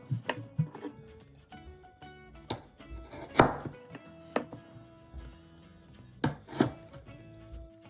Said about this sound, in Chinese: 1厘米长胡萝卜切3片